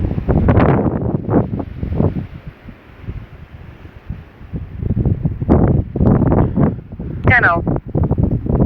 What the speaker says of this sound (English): Trying to take refuge from the wind.